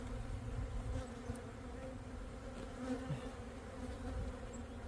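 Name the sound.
honeybees buzzing at a backyard apiary hive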